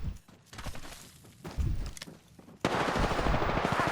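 Gunfire in the Apex Legends video game: bursts of automatic weapon shots and impacts, a few short volleys at moderate level followed by a louder, denser sustained burst at the end, no talk.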